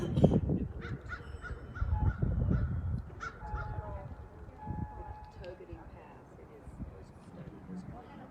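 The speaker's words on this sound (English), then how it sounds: "There's a bird right there." Crow calling outdoors at Mount Rushmore under clear blue skies, a few harsh caws cutting through nearby speech and wind, moderately loud and close.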